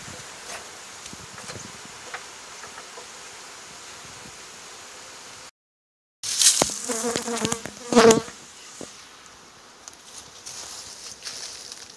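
Honey bees near a hive in Alaska make a steady, soft buzzing. After a short gap the hum returns louder and closer, with bees flying past near the listener.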